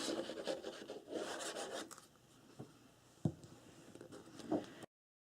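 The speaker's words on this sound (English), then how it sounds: "So burnish that edge right there." Paper edge being burnished for a scrapbook wedding album: a dry rasping rub for about two seconds, then quieter scraping with a few sharp taps and clicks, close up with no talking.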